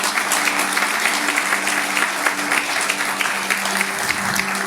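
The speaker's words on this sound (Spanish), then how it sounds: "Dale un aplauso fuerte al Rey." A church congregation at an anniversary service claps loudly together, a full, continuous burst of applause that fills the room, with a faint voice or sustained tone faintly underneath.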